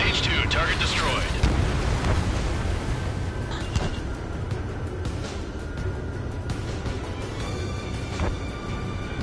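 A missile explosion in the jet combat game Ace Combat 7 erupts as a loud, rumbling blast that rolls on and slowly fades, with game voices talking over it.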